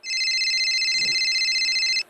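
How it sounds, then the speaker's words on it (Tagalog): A mobile phone rings with a steady electronic tone held for about two seconds, loud and close in an otherwise quiet room. "Oh, nag-ring yung phone mo."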